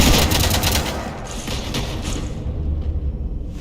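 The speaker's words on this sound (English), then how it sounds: "You want to stop shooting up my ship?" Rapid gunfire rattles through a bursty volley in the Mass Effect game, set aboard a ship. Loud, dense shots and impacts crowd the first half, then thin into lower mechanical rumble.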